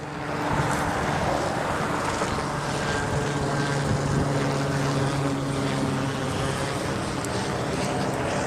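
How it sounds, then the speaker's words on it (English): A small helicopter flies overhead on a cloudy, rainy day in Phoenix, heard as a steady, fairly loud rotor and engine drone that holds evenly throughout without talk. "See, there's a little helicopter."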